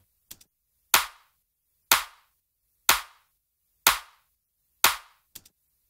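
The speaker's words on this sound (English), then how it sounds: "So here's a clap clip which is fairly static" Five sharp, evenly spaced claps from a dry, static clap sample in a Pro Tools session, each a crisp isolated hit with a quick decay and no reverb tail, plus a couple of faint short ticks near the start and end.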